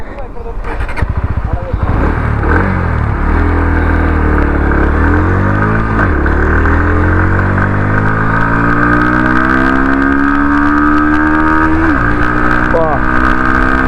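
A 2024 Bajaj Pulsar NS160 motorcycle accelerates hard on an open road, its engine note climbing through several gear changes in a loud, close, continuous roar with wind noise.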